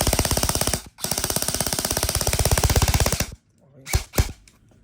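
An E&C 854 BCM airsoft gun with a polymer grip fires on full auto in a long rapid burst, loud and close, then stops briefly before two short bursts follow.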